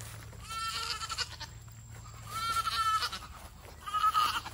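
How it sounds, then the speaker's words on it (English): Nigerian Dwarf goats bleat loudly and close by, three distinct bursts of harsh, wavering calls separated by short pauses, with a low steady hum underneath. "What are you doing, goats?"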